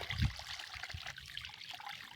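Irrigation water trickles softly through a channel in a field. It makes a faint, continuous burble with a slight splash near the start.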